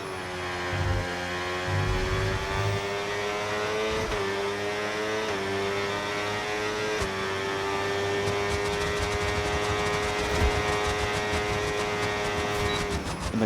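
On-board engine note of an Audi F1 race car in the F1 game, a sustained high whine that rises and dips with gear shifts, joined by other cars droning nearby.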